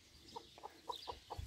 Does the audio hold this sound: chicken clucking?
yes